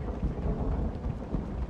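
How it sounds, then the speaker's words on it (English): Rain and thunder in the Red Dead Redemption video game form a continuous heavy downpour hiss with deep rolling rumbles, loud and steady, with no talk. "Man, he's really reacting to this rain, like, every 2 seconds."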